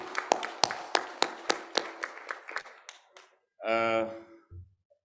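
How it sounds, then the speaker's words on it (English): A small audience at the C20 Civil 20 Summit 2022 in a Bali resort hall claps: distinct, fairly close hand claps in a quick, thinning run that stops after about three seconds, followed by a brief voice. "Let's give applause to the governing of C20."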